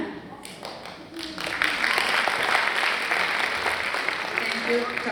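A theater audience breaks into applause after a drama, the clapping swelling from a few scattered hands into a full, sustained round, with a voice speaking over it near the start.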